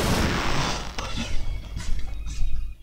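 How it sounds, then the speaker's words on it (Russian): A loud explosion bursts at the start in the Half-Life game, its heavy rumble decaying over a few seconds into mechanical clanks and scattered impacts. "Еще один взрыв."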